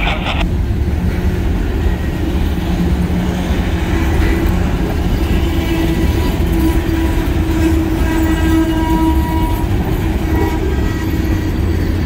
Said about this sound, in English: He's going to stop the train before it clears the tracks.